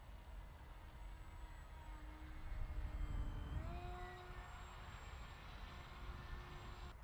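Radio-controlled Bixler 1.1 model plane flying outdoors, a faint steady motor whine with tones that shift in pitch as it moves, swelling slightly mid-clip, under a broad background hiss.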